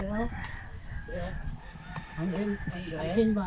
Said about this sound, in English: Except for the roosters I hear next door.